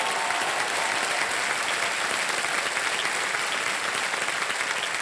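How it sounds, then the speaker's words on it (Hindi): Steady studio audience applause for quiz show contestants, a dense continuous wash of many hands clapping at moderate level throughout, with no speech over it. "तालियां बज जाए हमारे कंटेस्टेंट को।"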